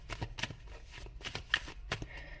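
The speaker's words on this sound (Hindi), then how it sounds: "तो इस डेक से देख लेते हैं क्या है कार्ड्स आपके लिए।" A tarot card deck is shuffled close by, giving quiet riffling bursts and soft slaps repeating in quick succession, fairly faint with no talking.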